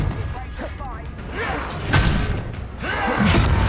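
A Confringo spell blast in the video game Hogwarts Legacy, with heavy thuds and whooshing impacts bursting through a combat mix while a voice speaks.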